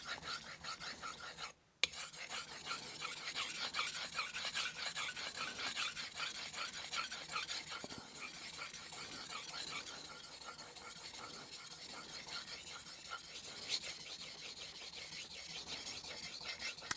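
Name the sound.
knife sharpened on wet 1000-grit whetstone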